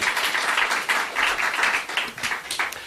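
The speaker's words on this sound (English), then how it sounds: "Let's give another round of applause." A congregation at a sermon gives a round of applause, the clapping rising and falling in waves from a crowd and filling the whole stretch.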